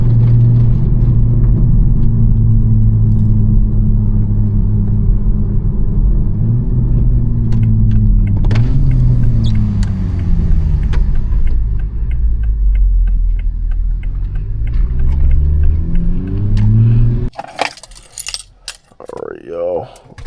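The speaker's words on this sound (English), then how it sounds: "these shitty ass roads, bro. This shit is fucking up my car." A car driving over rough, potholed roads at night gives a steady low rumble with rattling and jangling from inside the cabin, then drops out near the end as a voice speaks.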